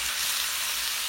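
Rice sizzles and fries in a pot, a dense, steady crackle close up with no voices.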